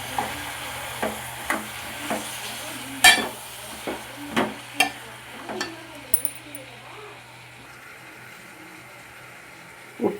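Tomatoes and ginger paste fry in a pan for a tomato-yogurt curry, heard as a low sizzle with a regular series of sharp spoon taps and scrapes that thin out toward the end.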